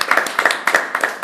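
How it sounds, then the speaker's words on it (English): Scattered clapping from a small meetup audience after a talk on Vim package managers, a few pairs of hands patting in quick irregular bursts, close and fairly loud, with no talk over it. "Round of applause to y'all for listening"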